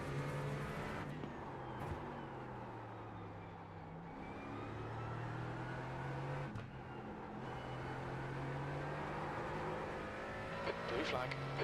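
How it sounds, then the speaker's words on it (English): Sports cars race on the Nürburgring Grand Prix circuit in a VR racing sim: a loud, sustained engine drone rises and falls as a faster car closes in and passes, with brief gear-shift dips along the way. "Faster car approaching."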